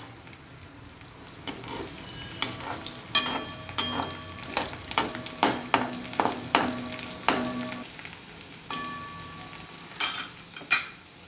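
Garlic fries in a hot pan under a low sizzle, punctuated by a regular run of sharp scraping stirs and metallic clinks of a spoon against the pan; no speech.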